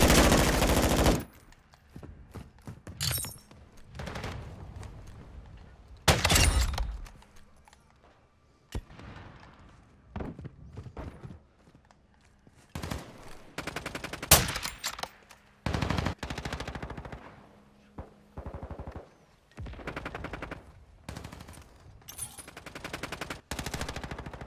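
Call of Duty Modern Warfare 2 gunfire, bursts of rapid automatic shots and single sharp cracks scattered across the match, some loud and close, others quieter, with brief gaps between.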